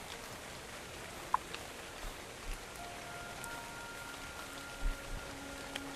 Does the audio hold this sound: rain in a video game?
yes